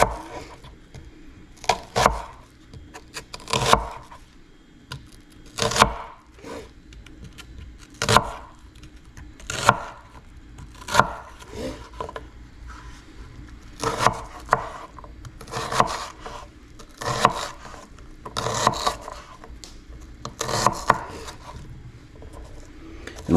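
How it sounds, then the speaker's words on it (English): A knife slices an onion on a cutting board in a home kitchen, giving a series of sharp, irregular chops and crunchy cuts with quiet gaps between them. "this way I slice my onion"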